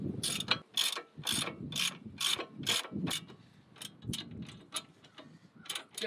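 Brake caliper bolt on a car being tightened with a ratchet wrench, a close series of quick clicking bursts in an uneven rhythm with short pauses between strokes.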